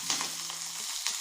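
Green chillies frying in a little oil for a north Karnataka dish: a close, continuous crackling sizzle with no voices.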